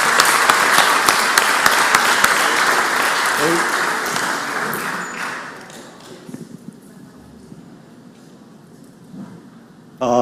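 A round of applause fills the Mississippi Senate chamber, loud and sustained for about five seconds before thinning out into scattered claps and quiet room noise.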